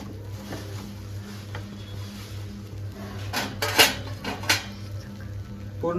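A metal utensil stirs a dry fruit and edible gum ladoo mixture in a pan, giving soft scrapes and a few sharp clinks and knocks near the end over a low steady hum.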